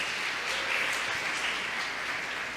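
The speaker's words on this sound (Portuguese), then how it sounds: "Vamos aplaudir ao Senhor por isso, gente?" A church congregation applauds during a sermon, a steady, even wash of clapping from a crowd that holds for a couple of seconds without any voices over it.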